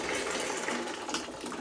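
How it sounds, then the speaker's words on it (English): Piping hot water from a kettle is poured into a bucket, making a steady, close, hissing gush of liquid that runs unbroken for under two seconds with no voices. "So I'm gonna actually pour in some piping hot kettle water, that boiling water"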